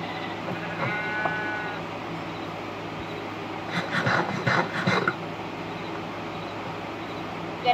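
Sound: sheep bleating in a video game

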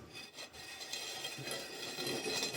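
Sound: plastering float scraping off drying plaster on window reveal

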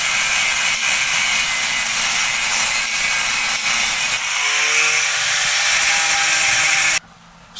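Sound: sawing off excess wood from an axe handle

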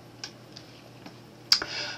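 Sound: pressing Enter key on computer keyboard

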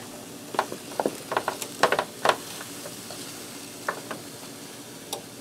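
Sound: spoon scraping ingredients into a pan

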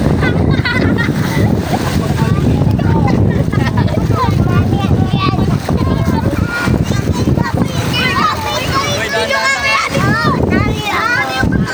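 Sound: strong ocean waves splashing

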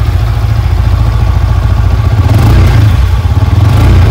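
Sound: Yamaha R15-S V3 motorcycle engine idling

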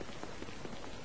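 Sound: rain falling in video game Baldur's Gate Dark Alliance

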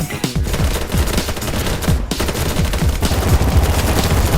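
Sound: gunfire in the video game BattleBit Remastered

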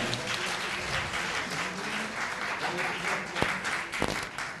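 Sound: audience applause at book launch

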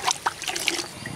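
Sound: watering seedlings

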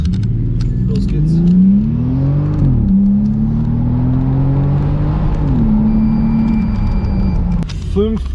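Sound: Bentley Continental GT Supersports accelerating, exhaust

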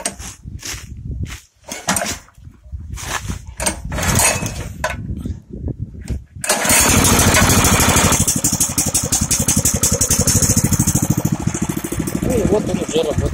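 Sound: Zubr 7 hp motor cultivator engine starting and running

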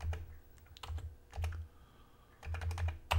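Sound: typing on a keyboard to search a C64 cartridge menu

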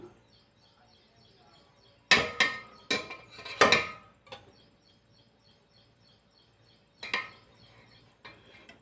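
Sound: covering a container of strained ghee residue

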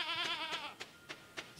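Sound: sheep baaing in the video game Stardew Valley

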